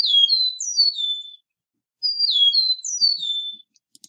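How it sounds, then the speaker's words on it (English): Eastern meadowlark song: two clear, near, high whistled phrases of slurred descending notes, each about a second and a half long, separated by a short pause, with no other sound behind them. "let's compare that to the Eastern meadowlark."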